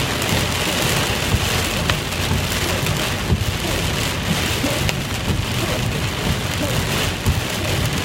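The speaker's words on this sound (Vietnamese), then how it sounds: "Nó mưa đá luôn các bạn ơi." A heavy hailstorm with thunder on a road during a flood-like downpour, a dense, steady roar of hail and rain pounding surfaces up close, with no talking.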